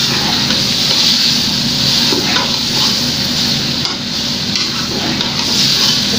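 Chopped bottle gourd (lauki) is stirred into chana dal in a pan, giving a continuous moist scraping and sizzling texture that stays loud and close throughout.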